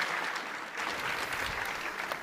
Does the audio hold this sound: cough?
no